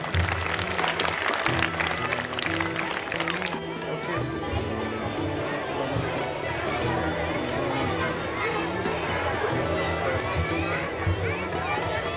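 Applause from an audience at a school annual gathering and awards function, clapping as prizes go to young pupils, mixed with crowd chatter and a rhythmic musical backing, fairly loud and continuous.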